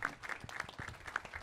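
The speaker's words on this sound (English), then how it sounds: "Let's give these guys a round of applause." A conference audience at a public sector summit applauds, giving brief, close, patchy clapping from a smallish crowd.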